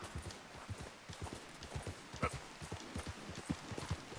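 A horse ridden through snow and dirt in Red Dead Redemption 2 gives rhythmic, close hoof thuds at a steady trot, fairly quiet, with no talk over them.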